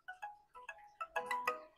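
A ringtone played through the loudspeaker of a POCO F7 phone during a speaker test, a bright repeating melodic chime of short tonal notes that grows louder and fuller toward the end, with no talking.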